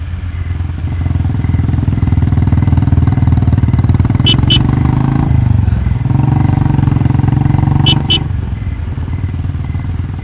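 A motorcycle engine in a ghost-story animation, a loud, steady low rumble that holds for the whole stretch and swells slightly as it rides, with two short high electronic beeps over it.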